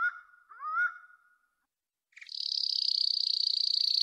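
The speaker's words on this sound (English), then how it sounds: "These bird events only play one bird chirp." Single bird chirp events triggered by a procedural ambience system in Unreal Engine 5, a couple of short chirps followed by a sustained bright high tone, clear and isolated with no background.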